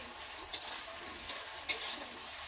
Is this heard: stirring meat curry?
yes